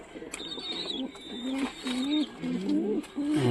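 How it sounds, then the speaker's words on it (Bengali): A satin pigeon coos repeatedly at close range, soft throaty rolling notes in a steady series, with a thin higher whistle-like sound above them. "তো প্রথমে শাটিন কবুতরের কাছেই আসি।"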